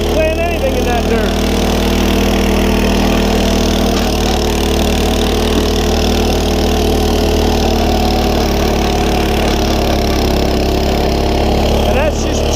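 A HORSE rototiller engine runs steadily while churning garden dirt made from wood chips, leaves, sawdust and manure, a continuous low mechanical drone close by with a faint voice talking underneath.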